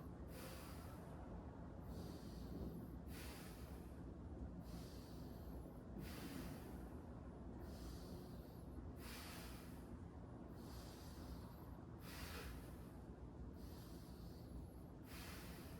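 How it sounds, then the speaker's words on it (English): A patient takes slow, deep breaths while a clinician listens to the lungs, heard closely through the stethoscope: about eight steady inhale-exhale cycles, each with a breathy rush, set against a constant low rumble. "Take a deep breath."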